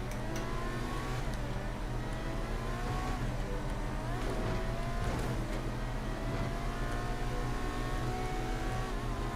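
A car in a GTA roleplay game on the Quant RP server accelerates steadily, its engine droning and climbing in pitch through several shifts, moderately loud and continuous with no speech.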